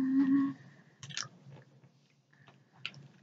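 Crunchy Shopkins crackers being bitten and chewed up close, a few distinct crisp bites followed by softer intermittent chewing, with a brief vocal sound at the start.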